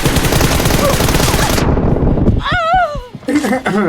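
Rapid automatic gunfire in PUBG Mobile, loud and continuous for about a second and a half before stopping abruptly, followed by players talking.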